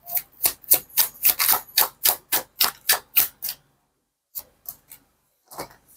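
A deck of tarot cards is shuffled by hand, giving a quick series of about a dozen crisp riffling slaps up close, then a pause and a few more scattered card flicks.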